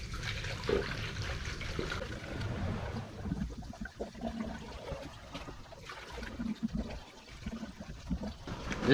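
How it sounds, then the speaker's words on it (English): Water gurgles and trickles as it is poured into a car's cooling system during a drift build, with an uneven swirling flow and bubbling that rises and falls over several seconds. "So what I'm gonna do is just start dumping some water in until it fills up and stops."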